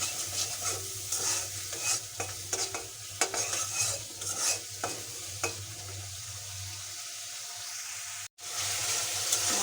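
Spice masala with chilli powder sautéed and stirred in a pan for a home-cooked lunch: steady close sizzling under repeated scraping stirs, with a brief dropout near the end.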